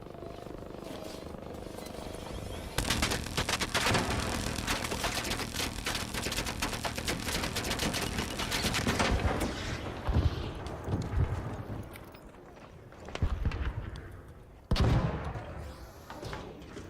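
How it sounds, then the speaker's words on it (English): Gunfire aimed at the player in Arc Raiders, with bursts of sharp shots and crackling fire over a steady rumbling background, then a quieter stretch broken by a few loud isolated reports near the end. "She's clearly shooting at me."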